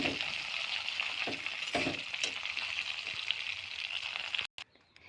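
Jujubes (kul) frying in a pan while being stirred, a steady hissing sizzle with occasional utensil scrapes and clinks, cutting off abruptly near the end.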